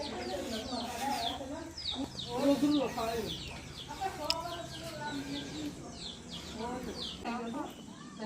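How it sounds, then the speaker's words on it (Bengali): Several chickens cluck and murmur nearby while people talk in the background. "ওই যে মুরগি কক কক করতেছে"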